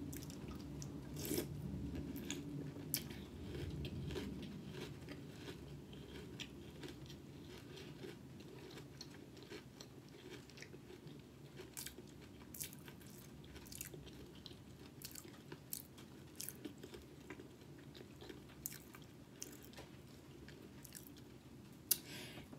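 Crunchy chewing of Sugar Cookie Toast Crunch cereal, close and steady for over twenty seconds, with soft wet crunches and occasional clinks, no talking.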